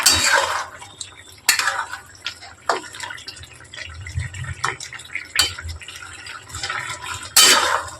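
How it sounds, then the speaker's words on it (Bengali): Metal pot lid lifted off a pot of boiled okra, with several sharp clanks and clinks of utensils over a low simmering background, heard up close with no speech. "আমি এখন ঢাকনাটা খুলে দেখে নিচ্ছি ঢ্যাঁড়সটা সিদ্ধ হয়েছে"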